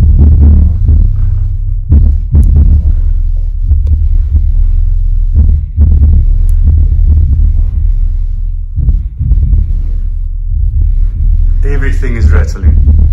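Klipsch RP1400SW subwoofer pumping heavy bass through a house, a loud, continuous deep throbbing rumble with rhythmic pulses and rattling, a brief higher-pitched burst near the end.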